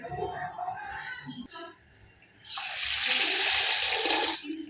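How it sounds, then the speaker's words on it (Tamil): Water splashes steadily into a bowl of urad dal for about two seconds, a bright rushing pour following quieter clinks and handling noises. "இதில் தண்ணி ஊற்றிடும்."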